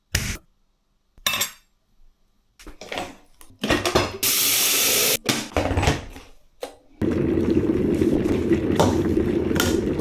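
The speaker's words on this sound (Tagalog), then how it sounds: "Konting mainit na tubig lang" Hot water being poured into a glass to mix Milo powder for ice candy, a steady loud pouring rush in the last few seconds after scattered clinks, taps and handling noises of a kitchen.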